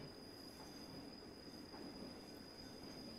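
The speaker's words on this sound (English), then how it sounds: "So it sounds like a train instead of a shopping cart." Train carriages roll along the Bernina Line in Train Simulator Classic, a steady, faint rumble of wheels on track with a thin high whine running throughout and no talk.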